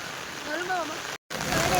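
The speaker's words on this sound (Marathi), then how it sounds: "पाऊस बघा किती छान आला" Steady rain hisses on surfaces, a continuous wash of drops with a brief cut partway through.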